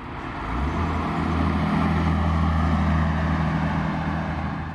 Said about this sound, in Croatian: Dakle, M30 zvuči prekrasno.